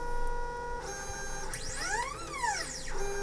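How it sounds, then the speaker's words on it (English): A Lulzbot Mini 3D printer's stepper motors whir and sing in rising and falling pitched sweeps as the head moves to each corner to level the bed, fairly quiet and close. "then it goes off to each corner so that it can level the bed"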